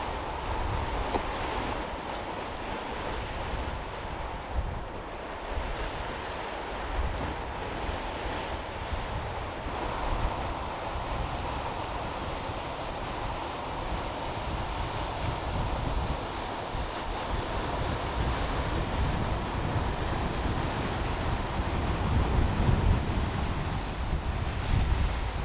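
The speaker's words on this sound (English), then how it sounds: "the waves give that feeling like you're actually by the ocean here" Waves washing against a lakeshore rock strewn with ice chunks, steady broadband surf with gusting wind buffeting the microphone throughout, continuous and fairly close, with no voices.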